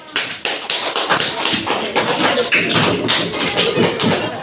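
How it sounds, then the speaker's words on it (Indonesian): A classroom of students claps for a student group, with dense loud applause starting abruptly and continuing evenly close to the microphone. "Kasih aplaus untuk kelompok B."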